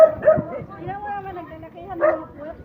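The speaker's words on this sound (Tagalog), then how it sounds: "May nagagalit na aso. Oy, shoutout sa'yo aso, ang ingay mo." A dog barks and yips in short bursts at close range, with people talking over it.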